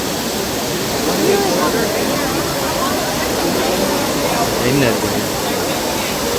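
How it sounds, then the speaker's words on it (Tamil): A famous water fountain in Italy at night: a steady broad rush of falling, splashing water fills the scene, with a crowd of people chattering beneath it. "இது வந்து இத்தாலியில் இருக்கிற ஒரு புகழ்பெற்ற ஒரு நீரூற்று."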